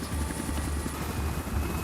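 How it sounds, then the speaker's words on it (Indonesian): Helicopter in flight in an action film, a steady close rotor chop and engine drone holding at an even loudness throughout, with no voices. "Helikopter yang mereka tumpangi mengalami kesulitan untuk naik ketinggian tertentu."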